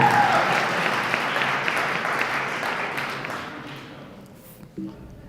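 An audience at a fintech startup pitch event claps, a broad wash of many hands that starts loud and gradually thins and fades out, followed by a faint tap near the end.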